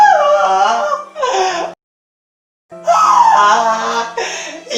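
Children cry loudly and tearfully in two long wailing bursts, close by, broken by a short silence before the sobbing resumes.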